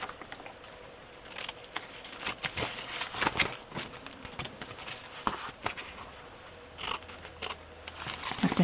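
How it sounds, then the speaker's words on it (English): Scissors cut through paper book signatures while a glue-bound book is prepared, giving irregular crisp snips and crinkles in quick clusters, close and fairly quiet against a still room. "so I'll just cut a little section out"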